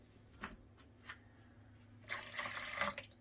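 Hot water poured into a bowl of liquid and dry ingredients for hamburger bun dough: a couple of faint splashes, then a brief trickling pour close by, quiet and without talk.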